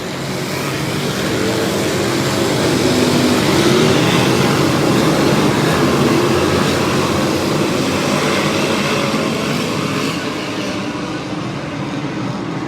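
Modified race cars race at Grandview Speedway, a dense pack producing a continuous broad engine roar that swells slightly as they pass and then eases, loud and steady throughout, with no voices.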